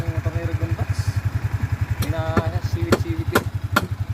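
Motorcycle engine idling close by, with a steady, fast, even thump at low pitch. People chat briefly over it and there are a few light clacks.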